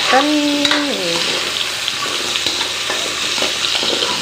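Steady sizzling of food frying in a pan, with a brief rising tone near the start and occasional clinks of stirring throughout.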